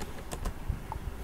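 Keystrokes on a computer keyboard while filling in a website survey form, a few quiet clicks spread over about a second in a quiet room.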